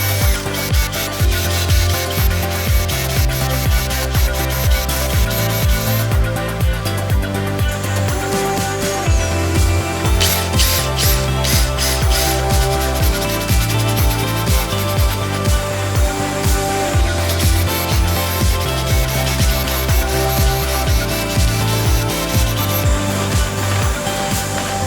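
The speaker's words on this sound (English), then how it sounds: "Drilling mounting holes for the main body can be tedious, so I machine 2 panels at once." A power drill boring mounting holes through two stacked panels at once, a steady whirring grind that runs continuously under a loud repeating musical backing.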